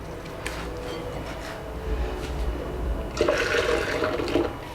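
Squeezed soy milk is poured into a pot for homemade tofu, a steady splashing gush of liquid with a fuller pour near the end, close by and with no talk.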